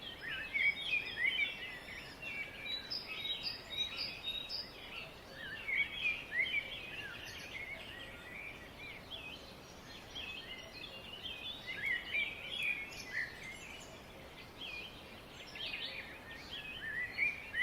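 Birds chirp and call repeatedly over a steady wash of falling water in a lush green forest near a waterfall in Maharashtra, the birdsong bright and intermittent above the constant rush.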